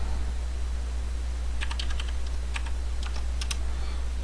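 Short bursts of light key clicks as numbers are typed on a computer keyboard, quiet and close over a steady low electrical hum, with no talking.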